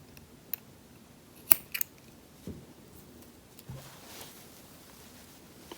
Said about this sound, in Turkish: fazlalığı kesiyorum.